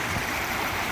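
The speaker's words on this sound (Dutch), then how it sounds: "is dat je continu water hoort" Steady rush of flowing stream water, unusually strong for the region, running beside a monument building being converted to office and home; a continuous broadband wash without pauses, fairly close and alone.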